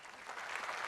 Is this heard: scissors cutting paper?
no